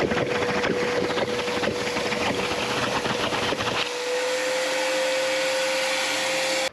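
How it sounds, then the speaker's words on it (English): Vacuum running steadily to hold oil in a BMW engine while the oil level sensor is changed, a constant whine and rushing hum with clattering noise in the first half that then drops to a smoother drone. "you could use a vacuum to hold the oil in while doing an oil level sensor"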